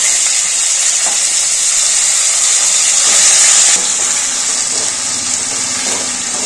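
Cut okra tossed into a hot tempering of mustard seeds, cumin, urad dal, asafoetida and curry leaves in a pan gives a loud, steady hissing sizzle that swells briefly, then settles into a softer continuous crackle.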